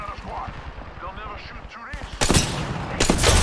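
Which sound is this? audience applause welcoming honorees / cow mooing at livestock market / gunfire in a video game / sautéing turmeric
gunfire in a video game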